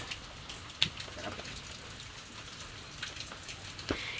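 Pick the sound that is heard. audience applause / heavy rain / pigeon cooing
heavy rain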